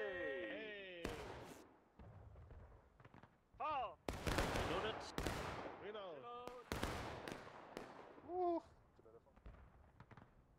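Rifle and artillery volleys ring out in War of Rights, a Civil War battle game: several sharp, loud cracks and booms punctuate the scene, separated by quieter gaps with fading echoes.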